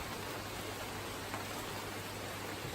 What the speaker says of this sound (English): that's what a rainforest sounds like when it rains.